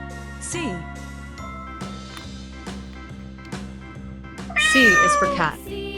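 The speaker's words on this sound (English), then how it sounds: "C is for cat." A cat meows twice, a short mew early on and a longer, louder yowl near the end, over a cheerful backing tune.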